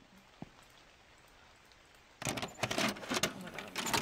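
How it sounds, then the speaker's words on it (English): Quiet at first with a faint knock, then video game rain in The Convenience Store suddenly starts pattering loudly and unevenly on a surface nearby. "It's raining."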